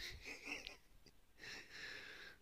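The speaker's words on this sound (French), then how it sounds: "Vous les entendez ronfler?" People asleep snore softly and wheezily in two drawn-out breaths, faint and close, with a quiet pause between them.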